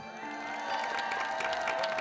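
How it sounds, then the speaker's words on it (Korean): A studio audience in a Korean TV show applauds steadily, a dense, even patter of many hands that keeps up throughout over background music. "자 박수 한번 주세요."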